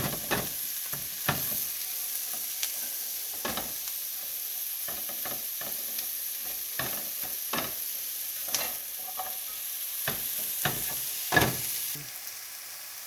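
Mushrooms cooking in butter, a soft even sizzle with scattered clicks and scrapes from stirring, faint and close throughout, no talking.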